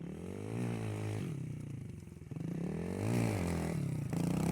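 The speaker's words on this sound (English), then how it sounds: "he has to get the motor wound up before it actually pulls a good wheelie" A TTR 110 dirt bike engine revs up and down in several rising and falling sweeps as it winds up for a wheelie, fairly close and loud, with no voices.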